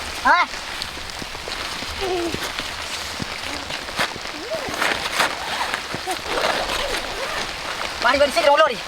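Steady rain patters on a surface, with people talking over it and a few louder splashes.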